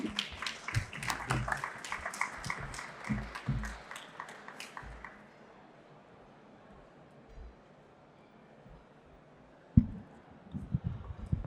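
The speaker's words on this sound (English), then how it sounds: "Please give them a warm round of applause." Audience applause for panel speakers at a regulatory sandbox innovation event, a burst of clapping for the first five seconds that fades out, followed by quiet room noise and a few faint thumps.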